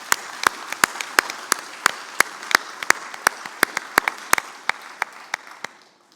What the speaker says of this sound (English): let's give the MITs a big round of applause for their fantastic effort this semester